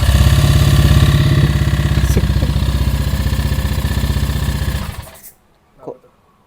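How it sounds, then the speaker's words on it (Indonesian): A Honda Vario 150 scooter engine, just tuned up, idles nearby with a rapid, even putter for several seconds, then shuts off, leaving near silence and a brief faint knock. "Gue mau nyoba nyalain dulu pertama kalinya mesin motor ini."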